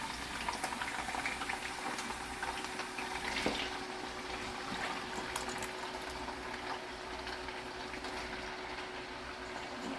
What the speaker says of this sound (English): My grease is getting hot. And it's going to splatter a little bit because my potatoes are dry.